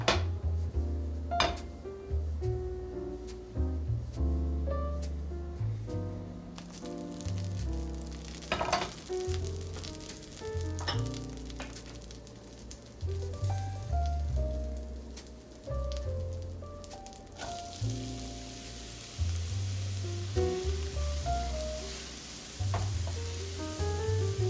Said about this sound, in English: beginning with cooking our onions